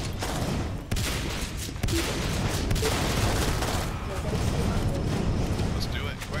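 Combat in the video game Natural Selection 2, with dense bursts of gunfire and grenade blasts churning continuously at loud volume.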